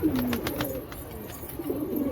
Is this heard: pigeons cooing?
yes